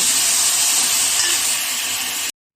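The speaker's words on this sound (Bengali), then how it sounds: "আমি এই যে যেটা সেদ্ধ করেছিলাম লাউ আর ছোলার ডাল সেটা তেলের মধ্যে দিয়ে দেব" Boiled bottle gourd and chana dal hit hot oil in a pan, setting off a loud, steady hiss that cuts off abruptly near the end.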